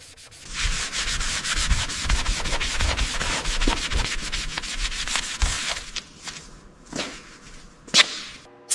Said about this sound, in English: getting into the sanding now. This mid-boiler section is heavily oxidized